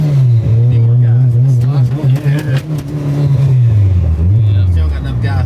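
Turbocharged Honda Civic EK hatchback with a GSR engine revving up and down loudly close by, a rough rising and falling drone with no speech over it.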